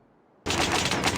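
Automatic gunfire erupts abruptly in Call of Duty Mobile multiplayer, likely an auto shotgun, a loud, dense burst of rapid shots that starts after a near-silent moment and keeps going without talk.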